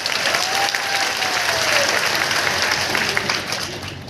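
Applause from the crowd at a political rally in Agar-Malwa rings out as dense, sustained clapping that carries steadily for several seconds, a thin whistle sliding through it early on.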